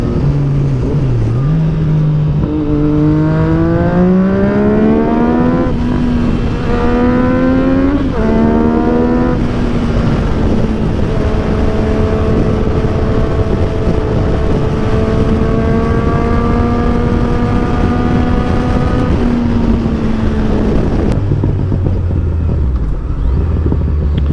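Motorcycle with a full exhaust and no tune, engine revving and shifting through rising pitch sweeps on the road, a loud close drone with rough crackles rather than distinct sharp pops, and no talk.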